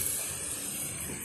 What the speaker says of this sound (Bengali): এই যে আলু প্রায় ভাজা হয়ে এসছে